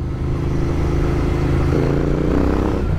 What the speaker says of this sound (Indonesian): Digeber dikit aja langsung bah.